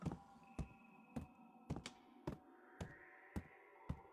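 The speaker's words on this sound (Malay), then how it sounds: "bunyi guli" Marbles rolling and knocking in a restroom in the horror game Dread Flats: about eight sharp, evenly spaced thuds under a steady low hum and a faint tonal drone, with no voices.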